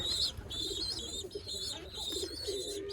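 Soft, low coos of domestic pigeons in a breeding loft repeat under a busy chorus of high chirps, all fairly faint.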